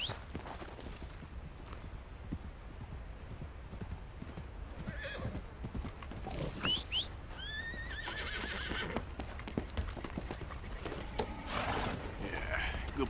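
Horse in Red Dead Redemption 2 neighing and whinnying several times, with steady clip-clop of hooves walking throughout, alongside rain and ambient game sounds.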